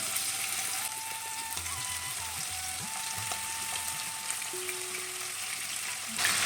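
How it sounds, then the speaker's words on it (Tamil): Marinated prawns sizzle and crackle steadily in hot oil for a Kerala-style prawn fry, a dense close frying hiss with small bubbling pops and a few faint utensil clinks, no voices. "இந்த எண்ணெயில் எறாவை போட்டுக்கலாம்."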